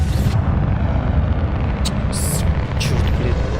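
A Bombarda spell explosion in Hogwarts Legacy produces a heavy, roaring blast with deep rumbling that fills the whole moment, and brief hissing flares rise over it.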